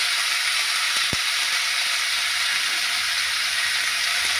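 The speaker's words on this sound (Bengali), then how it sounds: "সিমটাকে ভেজে নিচ্ছি।" Flat beans frying in a pan for vegetarian khichuri, a steady, even sizzle that holds at the same level throughout with no voices.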